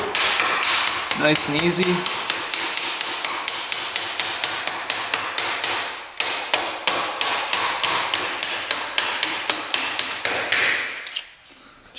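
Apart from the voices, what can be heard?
hammering a bolt out of a quad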